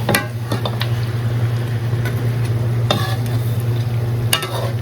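Marinated meat with whole garam masala, turmeric and chili, no onion, sizzling in oil as it sticks to the pan, stirred with a few sharp scraping strokes over a steady frying hiss, close up.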